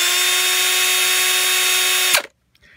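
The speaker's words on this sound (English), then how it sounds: "like this Milwaukee, you can get by with using, let's say, a cup wire brush. It'll give you some speed." Milwaukee drill spinning a cup wire brush, a steady loud whine holding for about two seconds before the trigger releases and the motor winds down to silence.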